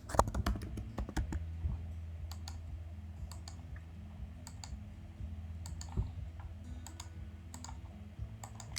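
Rapid computer keyboard typing up close, an opening burst of dense keystrokes easing into scattered, irregular clicks over a low steady room hum, with no voices.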